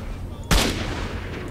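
Single gunshot in S.T.A.L.K.E.R.: Shadow of Chernobyl, a sharp loud crack with a short rumbling tail over quiet game ambience.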